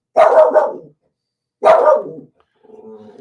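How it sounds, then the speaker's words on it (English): A pet dog barks at home, two loud close bursts with a pause between, then a quieter whine or growl trailing off. "my dog is saying it is time. I need to go for a walk, and that's what she's barking at so much"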